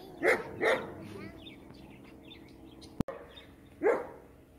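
A female German Shepherd barks three times nearby, two quick barks close together, then a pause with a sharp click before a final bark.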